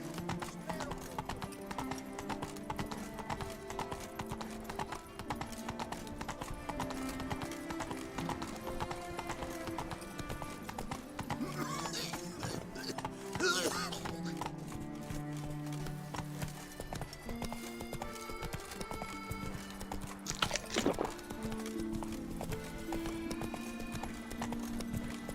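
Roach the horse in The Witcher 3 gallops with fast, rhythmic clip-clopping hooves under game music, with a couple of brief louder bursts along the way.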